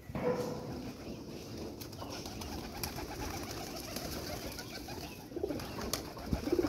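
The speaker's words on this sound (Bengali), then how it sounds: "তো আমি এখন ওদের খেতে দেব, খাবারের জন্য একদম পাগল হয়ে যায় আমার পাখিগুলো।" Pet birds crowd in at feeding time, cooing steadily and softly with occasional flutters and light knocks against a quiet background.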